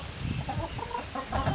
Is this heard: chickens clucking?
yes